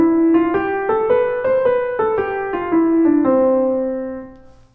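A scale played in a swinging rhythm, its notes falling in uneven long-short pairs as the line climbs and comes back down, solo and close, ending on a sustained, fading note.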